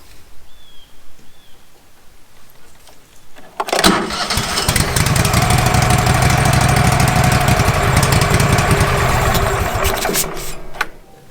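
A small engine turns over and catches after a few quiet seconds, then runs steadily and loudly for about seven seconds before cutting off abruptly; the engine has old fuel and was coaxed to start with Coca-Cola.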